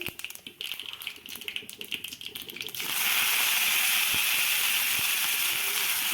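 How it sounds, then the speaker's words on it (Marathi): Chopped cabbage drops into a hot cumin and mustard seed tempering. After a few seconds of quiet pan clatter, a loud, sustained sizzle bursts up close and keeps hissing steadily. "जिरे आणि मोहरीची फोडणी दिली आणि मी जिरे थोडे जास्त टाकले आणि आता यामध्ये कोबी टाकते"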